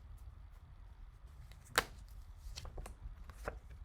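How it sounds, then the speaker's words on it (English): Tarot cards are shuffled and handled quietly up close: one sharp snap of the deck, then a few soft riffling clicks in an otherwise hushed room. "One more shuffle. And let's lay the cards."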